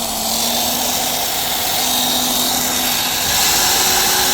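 An old power drill made in the USA runs continuously with a steady whirring motor whine and a faint, constant tonal hum. It is close and loud, with no pauses or changes in speed.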